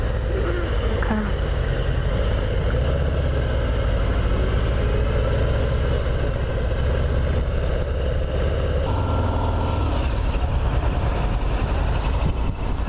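A Harley-Davidson Heritage Classic 114 motorcycle engine idles in a steady, loud, deep rumble that continues unbroken and close by.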